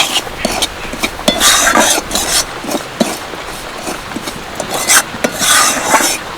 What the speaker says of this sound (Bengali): ঘিয়ের মধ্যে সুজিটা ভালো করে ভেজে নেব